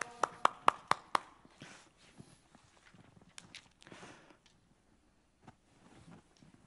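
A church congregation at a Sunday service gives a short welcome clap, a quick run of about six sharp, close claps at the start, followed by someone speaking with quieter room noise.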